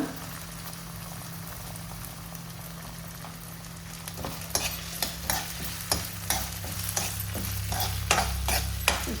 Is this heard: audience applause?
no